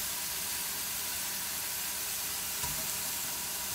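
Partially frozen ground venison with 5% beef fat sizzles steadily in a hot pan, a constant hiss of browning meat with one brief clank partway through.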